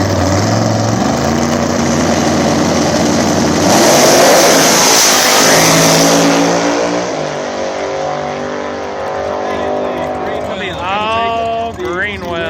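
Nitrous small-tire drag cars race at a back-of-the-track event in Ohio, their engines screaming loudly and continuously as they rev up and pull away. An announcer talks over the noise throughout.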